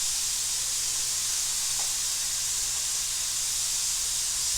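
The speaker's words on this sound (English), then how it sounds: "Okay, so I've drained my meat. Put it back in my" Drained ground meat returned to a hot skillet gives off a steady, loud, continuous hiss and sizzle with no breaks and no voices over it.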